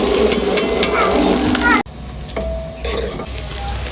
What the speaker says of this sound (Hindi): ऑयल हमारा गर्म हो गया, मैं इसमें प्याज ऐड करने लगी।